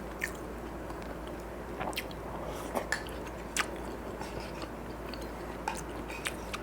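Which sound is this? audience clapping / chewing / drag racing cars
chewing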